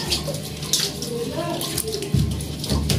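Lukewarm water pours and splashes steadily into a tub while a cat is bathed, running continuously beneath a woman's speech with a few louder splashes near the end.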